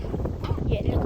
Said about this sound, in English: It's super duper windy.